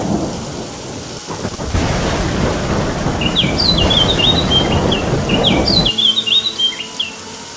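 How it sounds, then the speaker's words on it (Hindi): Heavy rain pours steadily with a deep rumble of thunder, and a few birds chirp brightly above the downpour. "लगातार बारिश होती रही।"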